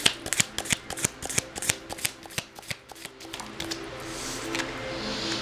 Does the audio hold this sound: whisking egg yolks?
no